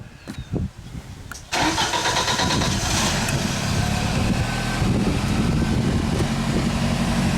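Engine of a Genie lift after repairs, starting up after a few knocks and then running at a loud, steady drone near the microphone during a test drive.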